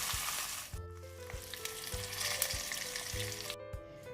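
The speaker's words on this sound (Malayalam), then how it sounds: "ഫ്രൈ ചെയ്യുമ്പം നമ്മൾ ഇതൊരു മീഡിയം ഫ്ലെയിമിലിട്ടിട്ട് വേണം ഫ്രൈ ചെയ്യാൻ" Masala sausages frying in oil in a pan over a medium flame, producing a loud, close, continuous sizzle and crackle with faint steady tones underneath and no talking.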